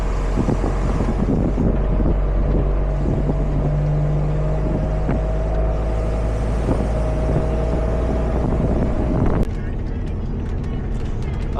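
An empty truck's engine drones steadily on a highway with strong wind buffeting the microphone, a sustained close rumble carrying a faint whine, cutting off abruptly near the end.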